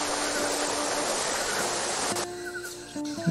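A waterfall in the video game Monkey Island 2 gives a steady broadband rush for about two seconds, then cuts to quieter game music tones.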